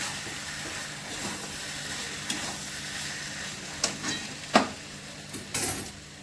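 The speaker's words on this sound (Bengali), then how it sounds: "এবার একটু ভালো করে মিশিয়ে দিই।" A pan of fish head and cabbage curry with garam masala and ghee is stirred over a low sizzle, with soft scraping and a few sharper clinks of the utensil against the pan toward the end.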